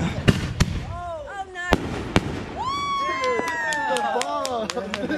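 An artillery shell firework is lit off for the 4th of July: sharp bangs and crackles, then several rising whistles streak upward and fade, with brief voices nearby.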